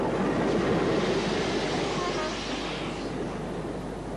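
A train on a 1960 railway outing rolls in toward its destination, a broad, noisy rumble that is loud at first and slowly softens as it comes to a stop.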